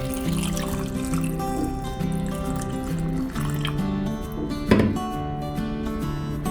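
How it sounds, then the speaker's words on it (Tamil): Sliced potatoes rinsed by hand in a vessel of water to wash off the starch, giving a steady, close sloshing and trickling wash throughout with a brief splash near the end. "அந்த ஸ்டார்ச்சை வந்து நம்ம நல்லா தண்ணியை போட்டு நல்லா வாஷ் பண்ணிக்கணும்."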